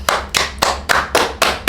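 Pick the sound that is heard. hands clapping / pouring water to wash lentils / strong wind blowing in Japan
hands clapping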